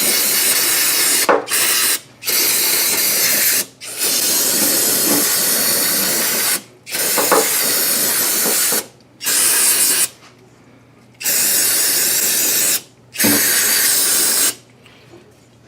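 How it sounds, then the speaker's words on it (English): Brake cleaner sprayed from an aerosol can onto brake fluid spills on a Ford Mustang during master cylinder work: five long, loud hissing bursts separated by short silent gaps, close by, with no voices. "I'm going to spray down all the areas here that we got brake fluid on."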